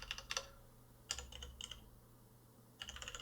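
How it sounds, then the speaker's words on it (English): Typing on a computer keyboard at a desk, with short bursts of close, crisp key clicks separated by brief quiet gaps. "So I'm going to type that in the search bar"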